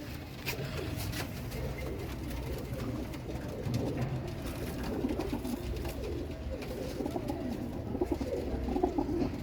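Many Ring Daar Eyes Kamangar pigeons cooing together in a low, throaty chorus, with wing flutters and shuffling, fairly close and continuous.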